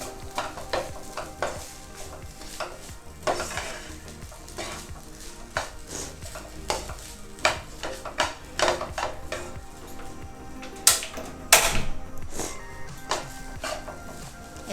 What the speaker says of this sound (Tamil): எல்லாம் போட்டு மிக்ஸ் பண்ணியாச்சு